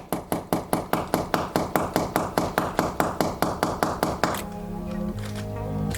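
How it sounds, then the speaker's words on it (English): A hammer taps in a steady rapid series of about twenty sharp knocks, then stops, leaving a faint lingering tone. "I'm going to take my screw and a hammer and just gently knock on there."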